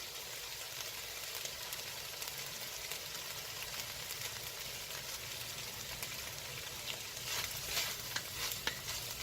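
Jalapenos sizzle and fry in a 6-quart dutch oven on the stovetop, a constant crackling hiss with occasional stirring scrapes and small pops, close and fairly quiet, growing busier near the end, with no talking.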